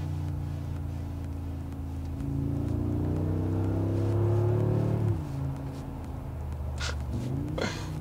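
A Mercedes G-Class engine on the road, rising and falling as the off-roader accelerates and shifts, a fairly close, steady drone with some passing wind and road noise.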